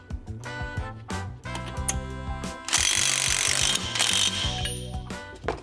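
A wrench ratchets in quick clicking bursts while tightening the pinion nut on a Chevy Tahoe rear end. The metallic clicks are close and loud, with a denser stretch of grinding noise in the middle.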